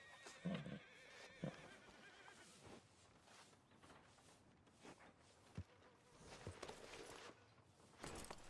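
A horse whinnies and its hooves clop in the Western video game Red Dead Redemption 2, with a couple of brief neighs early on, then scattered hoof and gear sounds over a busy ambient bed.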